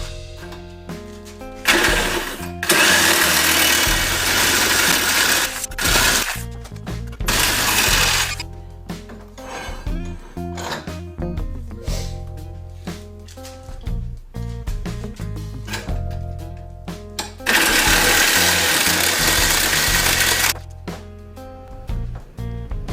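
A reciprocating saw cuts 2.5-inch, 1/8-inch-thick steel angle iron for a trailer scissor-jack mount, a loud, harsh, rapid buzzing rasp in long bursts separated by brief pauses, close up and without talking.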